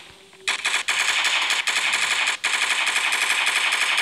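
Loud, rapid automatic gunfire in a video game, a sustained burst of shots lasting several seconds with a brief break, close and dense with no talking.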